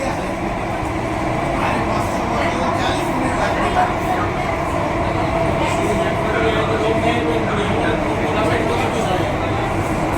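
An underground metro train in Mumbai runs at speed between stations, a steady loud rumble and rattle heard from inside the car, with low voices mixed in.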